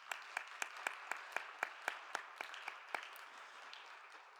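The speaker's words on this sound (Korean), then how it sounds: "박수로 환영하겠습니다." Applause at a Korean church youth service welcoming new members, about a dozen slow, evenly spaced claps, faint and fairly distant, fading out at the end.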